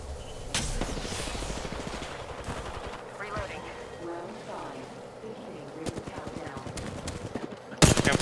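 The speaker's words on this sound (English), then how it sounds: "They're shooting at me." Rapid gunfire crackles in the Apex Legends battle royale game, bursts of quick repeated shots at moderate distance, mixed with game effects and ending in a loud close blast.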